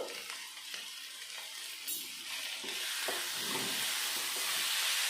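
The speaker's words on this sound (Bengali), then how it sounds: "আমি এখন আবার দু থেকে তিন মিনিট মতো কষিয়ে নেব" Paneer masala stir-fried in a pan, with a steady sizzle and hiss that builds louder over the second half, broken by soft scraping and stirring clicks, close up and with no voices.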